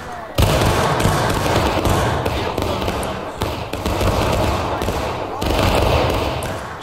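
Massed Civil War rifle volleys in War of Rights during a large battle event: dense, loud, continuous crackling musket fire with booming thuds, briefly dipping twice before surging again.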